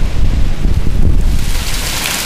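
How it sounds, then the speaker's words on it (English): Rain and hail pour down in a massive storm, a dense, loud, continuous hiss and patter with rumbling wind buffeting the microphone, no voices. "we're getting hail"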